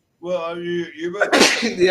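A single loud, close sneeze bursts out right after a short stretch of speech, sharp and noisy, with talk resuming around it.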